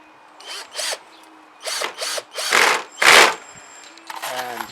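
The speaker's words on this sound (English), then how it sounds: "forgive the Kango drill in the background, that's some neighbor at something" Kango drill run by a neighbour in the background while screws are fitted indoors, sounding in several short rattling bursts of about half a second each, with a brief motor whine at the end.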